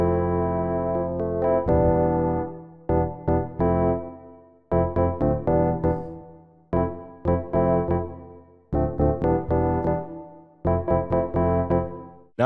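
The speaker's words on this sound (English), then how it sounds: "it's this Rhodes piano made out of a wavetable and sounds like this." A wavetable-built Rhodes electric piano synth preset named Paris plays a series of sustained chords in short phrases, each block of notes ringing and then cutting off in a steady rhythm, clear and alone.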